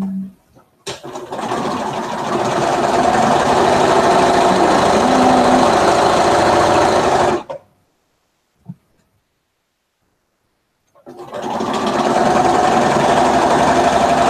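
A sewing machine stitches quilt sashing in a long, steady, loud mechanical whir lasting several seconds, stops briefly with a small clunk, then starts running again.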